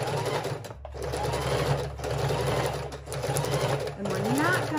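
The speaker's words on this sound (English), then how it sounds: "We're going to lock in that stitch, turn it back to, lift my needle, turn it back to a single stitch." A sewing machine stitches a fabric junk journal cover, running in close bursts of fast, even whirring with short pauses between, while someone speaks over it.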